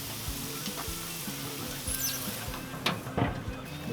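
Chicken tenders sizzle steadily on a Char-Griller Super Pro grill, a constant close hiss broken by a few sharper pops and clanks.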